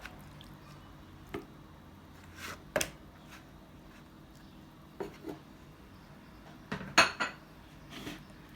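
Chicken wings being mixed and tossed in a bowl for an oven-baked chicken dish, giving scattered soft wet squishes and light clinks of utensil against the bowl, close by, with quiet gaps between.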